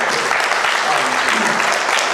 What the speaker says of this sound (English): So let's have a round of applause first.